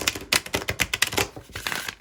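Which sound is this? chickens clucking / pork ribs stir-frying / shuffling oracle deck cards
shuffling oracle deck cards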